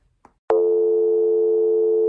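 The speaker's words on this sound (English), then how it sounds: "does this sound like a phone hanging up?" A telephone busy signal starts abruptly after a brief click, a loud, steady electronic tone that holds unbroken and alone.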